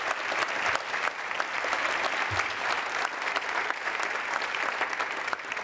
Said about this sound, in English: Let's hear it for Shane for his great work